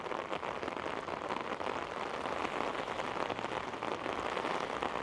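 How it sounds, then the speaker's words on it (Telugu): Heavy rain pours down steadily in Menton, France, a dense, loud hiss of drops drumming on surfaces with no pauses. "దుళ్ళగొట్టేస్తుంది రెయిన్"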